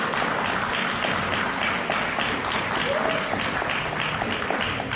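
Steady applause from a convention panel audience at C2E2, dense and continuous throughout with no break.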